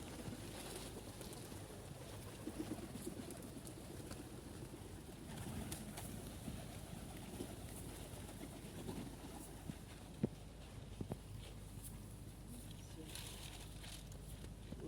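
Pigeons at feeding time, with soft cooing and faint bird calls over a low outdoor rumble of wind and background noise, quiet and somewhat distant.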